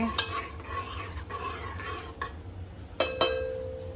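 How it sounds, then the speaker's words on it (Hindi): Ingredients for a one-pot meal being mixed in a pot, giving soft continuous stirring and scraping with a couple of sharper metallic knocks of a spoon against the pot near the end, with no talking. "अब इसको मिक्स करेंगे बहुत ही अच्छे से"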